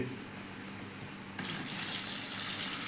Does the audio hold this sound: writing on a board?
no